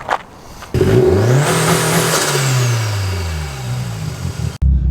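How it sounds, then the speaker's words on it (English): A loud 406 bhp Vauxhall Corsa VXR engine revs up sharply, its pitch sweeping high then falling back, close and throaty, before cutting off abruptly. "hopefully you can hear me from this loud car"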